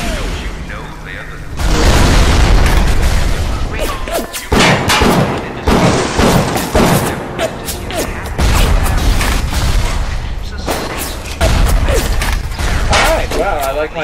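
Rocket turret fire and explosions in the video game Bioshock come as loud booming thuds and mechanical clanks in bursts, with game noise and voices over them.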